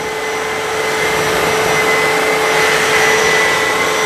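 A Kenmore HF5010 wet-dry vacuum runs close and loud, a steady whining motor roar with airflow hiss that holds without change for about four seconds, with no talk.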